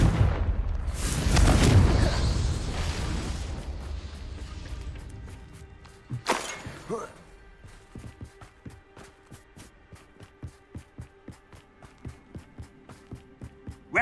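A Confringo explosive spell blasts in Hogwarts Legacy as a loud, rumbling boom that roars for a couple of seconds and then decays, followed by a second sharp burst and a train of fainter rhythmic clicks and impacts.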